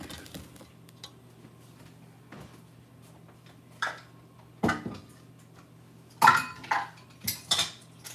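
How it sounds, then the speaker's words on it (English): Metal banana bread baking pans are handled in a kitchen, producing scattered clanks and clattering knocks, a few soft ones early and sharper clusters toward the end, over quiet background hum. "I'm going to clean up, and I'm going to bring the pans over here."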